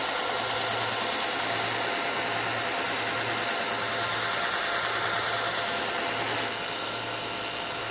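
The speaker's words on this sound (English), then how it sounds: "Now this belt is going to take that burr off." A Work Sharp belt sharpener takes the burr off a knife edge. Its motor hums and the belt makes a steady abrasive rasp, loud and close for several seconds, then it eases to a quieter whir near the end.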